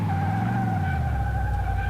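Tyres skidding under hard braking on a car in Car Mechanic Simulator 2018, a continuous loud tonal squeal with a low engine drone beneath, close and steady, no talk.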